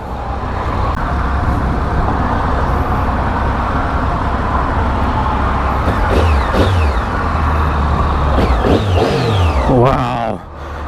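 A Triumph Tiger 800 triple-cylinder motorcycle engine revs and accelerates loudly and steadily through traffic, with a rising whine over a heavy droning rumble that drops away briefly near the end.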